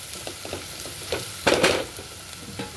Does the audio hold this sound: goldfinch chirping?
no